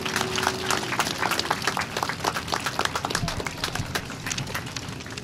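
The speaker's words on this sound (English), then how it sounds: "Let's give him a round of applause and thank you for your service" An elementary school Flag Day crowd applauds a Marine veteran, scattered claps building into steady, lively applause at moderate distance, with a faint voice briefly heard early on.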